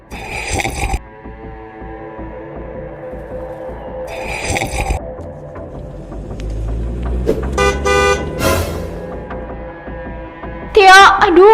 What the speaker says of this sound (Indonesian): aduh gawat banget ini suara mobilnya Bu Maya